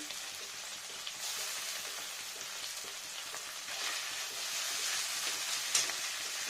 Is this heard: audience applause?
no